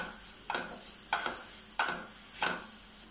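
Turmeric and coriander powder fry in a pan while a spoon stirs, four evenly spaced scraping strokes over a soft sizzle, close and without talk.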